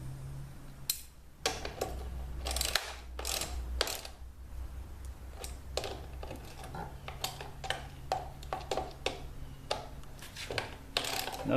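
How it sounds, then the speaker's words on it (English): A nut driver turning the chain adjustment screw on an electric chainsaw under repair gives a steady series of close, small metallic ticks and ratcheting clicks, with a low hum underneath. "the chain needs to be adjusted, and that's with this screw right here"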